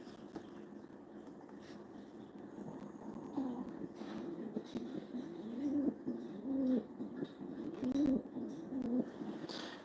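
Cockatoos call in soft, repeated hoarse notes at night, fairly faint and close, with scattered small rustles and a quiet background.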